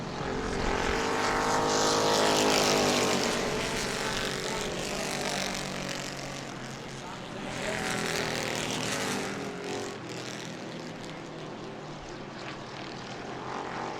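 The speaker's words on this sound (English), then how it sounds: "Couple of 6 sounding race cars here." Six-cylinder race cars circle the track at a family fun night race, a sustained engine roar that swells and fades in Doppler-like sweeps as the cars pass, loud and steady with no talk.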